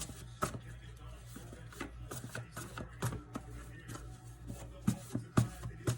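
Quiet, irregular riffling and tapping of cards being shuffled close by, soft flicks with a few sharper snaps toward the end.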